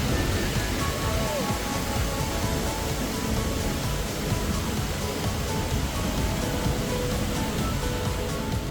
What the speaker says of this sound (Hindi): जो हमारे पीछे देख रहे हैं आप, वो है खांडा वाटरफॉल, जिसको लोग मिल्की वाटरफॉल भी के नाम से जानते हैं